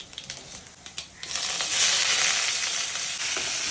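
Mustard seeds crackling in hot coconut oil while tempering for a snake gourd stir-fry with small onions: a few sparse pops, then a dense, steady sizzle that holds close and fairly loud.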